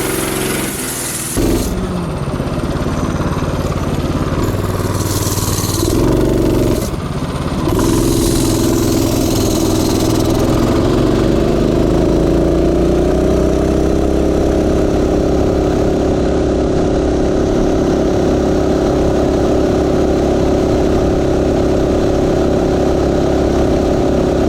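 Motorized bicycle engine revving hard and holding a steady high drone through a top speed run of about 32 mph, loud and continuous after a few brief throttle blips at the start.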